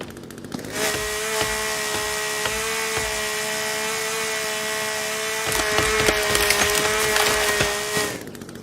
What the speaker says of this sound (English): Let's use the chainsaw for the first time